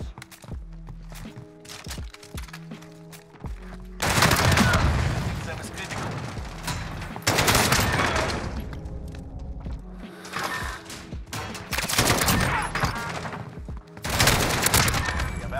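Bursts of AK rifle fire in a first-person shooter video game, several loud automatic volleys separated by short pauses, with footsteps and game sounds between.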